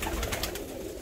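Ornamental pigeons coo in a crowded coop, a short burst of soft, throaty cooing close by with no voices.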